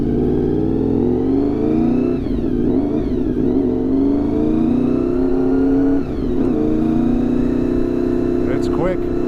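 A loud Honda VFR motorcycle engine on a test ride, droning steadily up close with rising and falling revs as the throttle is worked, continuous throughout under a rider's voice.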